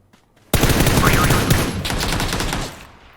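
AK rifle fire in the video game PUBG: a loud, sudden burst of rapid automatic shots lasting about two seconds, then tailing off into echo.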